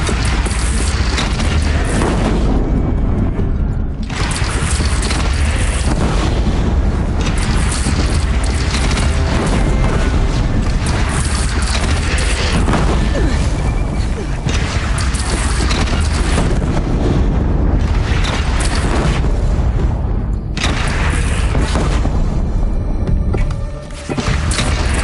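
Cannon fire and explosions boom repeatedly in a video game battle, heavy and dense, with loud, constant rumbling and blasts layered throughout with hardly a pause.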